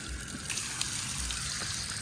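Water drains from the plug hole of a bass boat in a steady, close trickle and splash, with small gurgles along the way and no voices over it.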